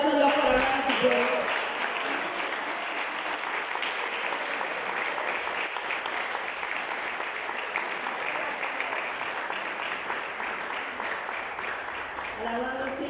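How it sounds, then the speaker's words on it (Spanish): A church congregation applauds during a Spanish-language sermon, a steady dense wash of clapping that holds loud and even for the whole stretch, with a brief voice near the start. "Alguien le da un aplauso a Dios por hablar a su pueblo."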